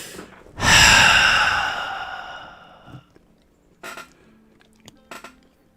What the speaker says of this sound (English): You can still hear that heavy breathing.